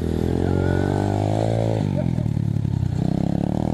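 Apollo 125cc dirt bike engine revving close by, a loud steady roar that drops in pitch midway and then settles into a rougher, pulsing idle-like rumble, with no talk over it.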